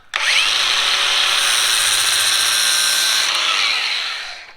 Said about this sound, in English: I'll run my wheel gently over this edge to take off that little burr on the bottom, just like this.